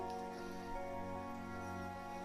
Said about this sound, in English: I like the way it looks when the rain hits the umbrella